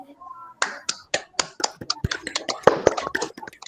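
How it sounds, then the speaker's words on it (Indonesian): A small group in a physics peer-teaching class claps for a fellow participant: sparse, uneven individual claps, close and crisp, gradually thickening into a loose patter, with a brief murmur of voice at the start. "Tepuk tangan buat Pak Dede nggak ini?"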